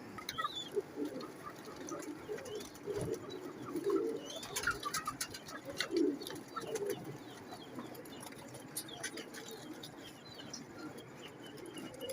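Soft cooing of red-eyed pigeons, with low murmuring coos around two points and faint pattering and rustling throughout, fairly quiet and close in a loft-like space.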